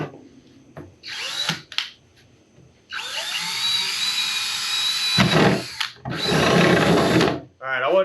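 Power drill bores a hole in a Donkey Kong arcade cabinet during restoration, whining in loud bursts that start and stop, with short pauses and some speech between runs.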